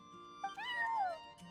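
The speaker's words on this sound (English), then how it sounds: "I'm sorry, that's my neighbor's cat." A neighbor's cat in the Genshin Impact video game gives a single drawn-out meow that rises and then falls, close and clear over faint background hum.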